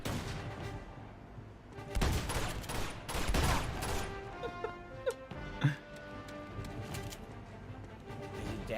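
Scattered gunfire in the action game Uncharted, with bursts of shots clustered in the middle of the stretch over a busy game soundscape, moderately loud with no speech on top.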